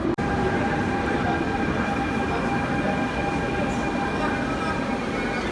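A train at a Disney resort rumbles steadily nearby with a sustained metallic hum and faint wheel tones, voices occasionally audible beneath it.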